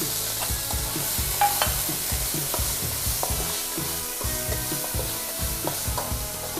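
Pork stir-fried with chopped garlic in a pan for a jackfruit curry-paste stir-fry, with steady sizzling under repeated scraping spatula strokes in an irregular rhythm, close and alone with no talk.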